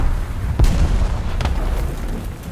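An aircraft-dropped bomb detonates in War Thunder with a sharp, heavy boom, followed by a smaller second thud over steady background engine rumble.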